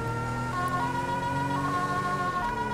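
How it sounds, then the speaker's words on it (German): A police car siren wails in the GTA 5 police mod LSPDFR, a loud, sustained electronic tone that holds steady over a low engine rumble, with no talk. "Natürlich mit Blaulicht und Sirene."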